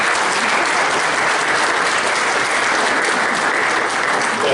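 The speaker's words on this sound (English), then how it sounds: "A heck of a deal getting applause for taking a present standing up front." An audience at a Christmas Eve church service applauds loudly and steadily, dense clapping filling the whole stretch without pause.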